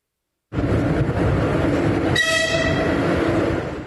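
An evacuation train in Ukraine rumbles loudly and close after a moment of silence, its heavy rolling roar joined midway by a sustained horn blast that holds over the steady rail noise.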